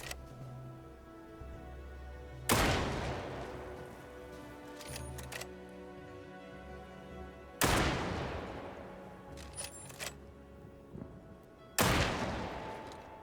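Three loud, widely spaced gunshots ring out in the video game The Caribou Trail, each a sharp crack with a long reverberant tail fading into quiet ambience.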